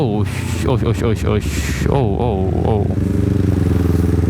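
A Honda CBR250RR motorcycle engine with a titanium Yoshimura R77 exhaust rumbles and revs under a man's speech, settling into a steady, throaty idle near the end.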